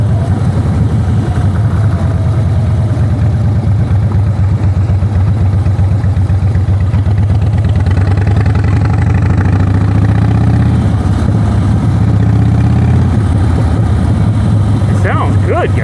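A rebuilt salvage-auction Harley-Davidson motorcycle engine runs loud and close, a steady throbbing rumble with shifting revs, while a voice talks over it.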